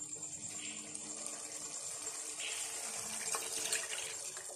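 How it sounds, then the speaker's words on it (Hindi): Milk pouring into a pan of smooth white sauce for creamy chicken pasta, a steady liquid splashing and trickling that runs continuously at moderate loudness with no talk over it. "और अब मैं इसके अंदर डालूंगी दूध"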